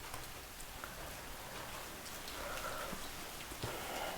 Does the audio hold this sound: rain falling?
yes